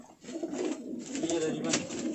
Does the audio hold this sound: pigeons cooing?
yes